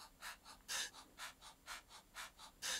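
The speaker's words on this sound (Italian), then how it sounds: "sono i breaths, cioè questi respiri che ci sono dopo un po'" A singer's breaths from a song recording come as a rhythmic series of about ten short, airy inhales, evenly spaced and close to the microphone, with a few stronger gasps.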